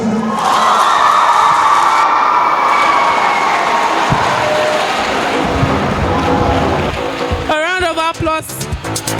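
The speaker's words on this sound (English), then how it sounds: "A round of applause for the second speaker, Philade Michael" Loud, dense crowd noise of applause and cheering at a faculty debate competition, sustained and washing out the room, with a voice calling out over it near the end.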